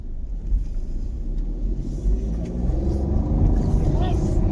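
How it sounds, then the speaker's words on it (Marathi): A three-cylinder car engine strains uphill at full throttle, a low, steady rumble from inside the cabin that builds slightly louder toward the end, with voices talking over it. "खालूनच फुल रेस मध्ये न्यावं लागते गाडी"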